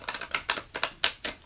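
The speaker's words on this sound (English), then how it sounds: "So let me go ahead and shuffle the deck." A deck of oracle cards being shuffled by hand, a quick run of crisp papery riffling bursts, about seven in a row, fairly close and on its own with no talk.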